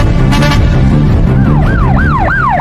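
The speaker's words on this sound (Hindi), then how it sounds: "ये तो पुलिस की गाड़ी की आवाज आ रही है" A police car siren wails loudly in rising and falling sweeps that repeat close by, with other noise beneath it at the start.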